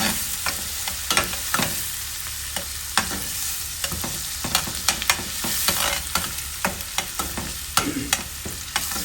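Onion, garlic and ginger fry loudly in a pan, a constant bright sizzle broken by frequent sharp spatters and utensil scrapes as the mix is stirred, close and without talk.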